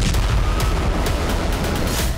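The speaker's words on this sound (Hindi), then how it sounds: "धमाकों के शोर से दहशत है।" Rocket attack explosions in an Israeli city: a rapid series of sharp booms and blasts, loud and repeated over dense rumbling, with no voices.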